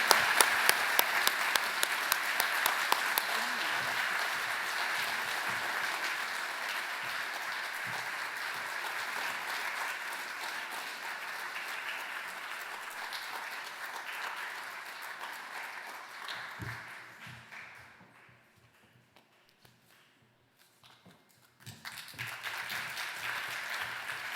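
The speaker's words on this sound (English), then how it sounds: "Please join me and applauding John Hopeman in receiving the 2023 Justice Award." An audience at a benefit gala applauds award recipient John Hopeman receiving the 2023 Justice Award, steady dense clapping that fades out near the end before brief stirring and room noise return.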